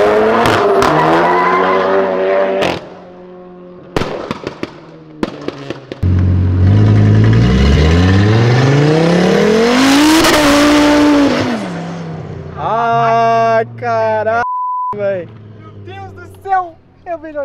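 A Chevrolet Opala drifts alongside a Nissan 350Z as cars leave an event, with roaring engines revving and climbing and long tire screeches. Loud bursts come and go, and voices from the crowd mix in.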